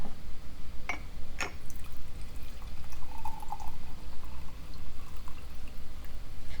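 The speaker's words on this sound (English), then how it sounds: "I'm going to pour myself a cup of tea" Tea poured into a cup, a soft liquid stream with a few brief drips and splashes, close and fairly quiet against a low background hum.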